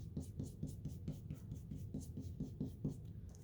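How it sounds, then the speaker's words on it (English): A blender brush wiping ink across designer series paper, producing a series of soft, rhythmic scratchy strokes, about a dozen in quick regular succession, close and quiet. "you just take your blender brush and you just wipe the color off onto"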